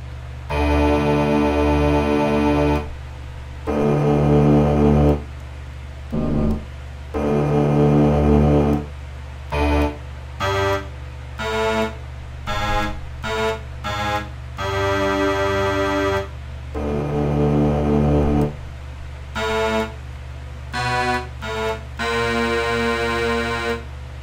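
Low bagpipes sound a steady droning bass under a melody chanter playing bursts of notes, some long and some quick and choppy with brief gaps, loud and close with no talking.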